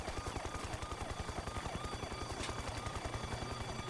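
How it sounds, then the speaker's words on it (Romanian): A helicopter in the Reservoir Dogs video game, its rotor chopping in a fast, steady low thump that holds evenly and loudly for the whole stretch. "Unde dracu se aude aia la elicopter?"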